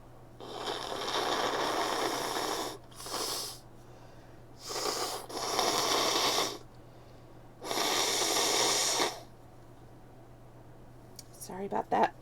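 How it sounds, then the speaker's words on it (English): Someone with allergies blows their nose in four loud, long, breathy blasts separated by short pauses, close to the microphone, followed by brief rustling at the end. "Just going to take a little break and blow my nose"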